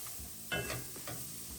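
Garlic and onions sizzle softly in a hot pan for Jamaican curry cabbage while being stirred, with a few brief scraping strokes over a low, steady frying hiss.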